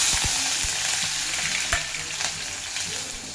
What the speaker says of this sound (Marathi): मस्त फोडणी बसली, तेल तापलं होतं ना चांगलं, त्यामुळं.